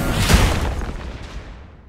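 A turret is destroyed in Marvel Super War, one loud booming blast that rumbles and fades over about two seconds.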